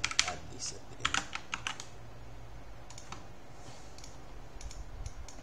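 Close computer keyboard typing of comment code, a quick burst of sharp key clicks at the start, then sparser, fainter taps trailing off over quiet room noise.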